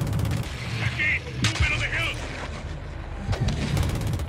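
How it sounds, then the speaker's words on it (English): Rockets and gunfire rattle during a firefight in Call of Duty: Modern Warfare II. Several sharp cracks and a few heavier blasts punch through steady rumbling combat noise, with scattered shots and explosions spread over the stretch. "Shadow 1, we're taking RPG fire from the east."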